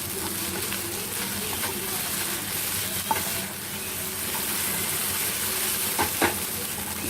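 Egg chow mein with green chilli and coriander leaves cooks in a hot pan, a continuous close hiss and sizzle with occasional stirring scrapes and a few light knocks, no speech.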